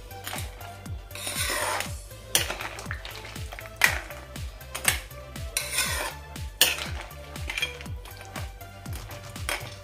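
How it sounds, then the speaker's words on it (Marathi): Village-style crab curry is stirred in a pot with a utensil: rhythmic scraping strokes repeat over a loud, continuous sizzling bubble, with sharper clanks against the pot now and then. "आता पुन्हा हे आपण मिक्स करूयात"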